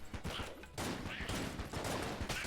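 Rapid gunfire with bouncing bullets in the video game Enter the Gungeon, dense repeated bursts of shots that fill the clip, briefly broken by a short gap, loud and close with a faint voice underneath.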